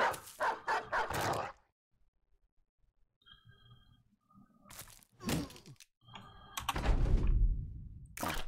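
Dog in the Battle Brothers video game barks in a few loud sharp bursts, with gaps of near silence, faint thuds and a final louder rough flurry of combat-like noise.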